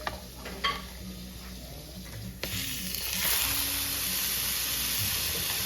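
Ahi tuna drops into hot oil in a pan in Hawaii: after a few clicks of the pan, a sudden loud hiss of searing breaks out and then holds as a steady, close sizzle.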